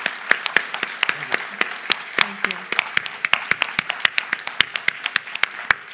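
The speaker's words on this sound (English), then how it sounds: "let's have a big round of applause." Small audience applauding a guest after an economics talk with a speaker, a sparse scattering of distinct, crisp hand claps at irregular intervals, with a brief spoken voice partway through.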